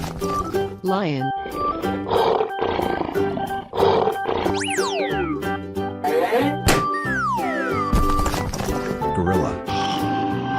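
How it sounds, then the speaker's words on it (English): A cartoonish lion roars in a 3D animal slide video game, the roar arriving amid bright game music, sliding whoosh effects and a steady clatter of hoofbeat-like sounds. "Lion."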